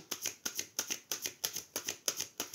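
Tarot cards are shuffled in a quick, even rhythm, about nine crisp riffling bursts in under three seconds, close and fairly soft with no voices.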